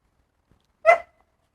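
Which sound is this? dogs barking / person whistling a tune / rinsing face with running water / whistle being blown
dogs barking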